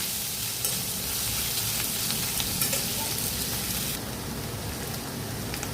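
Diced potato and carrot for veg noodles fry in a pan with a dense, continuous sizzle and occasional spatula taps; the hiss drops slightly in level partway through.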